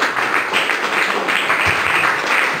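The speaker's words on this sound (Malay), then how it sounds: "Berikan tepukan, angkat tangan sikit." An audience at an official opening speech gives a round of applause, a dense, steady wash of clapping that stays loud and even from start to finish, with no talk over it.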